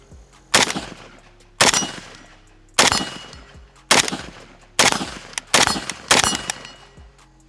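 A Pioneer Arms 5.56 AK sporter rifle fired at a steel target 25 yards away outdoors: seven loud, sharp single shots at uneven intervals of about a second, each with a brief echoing decay, no voices.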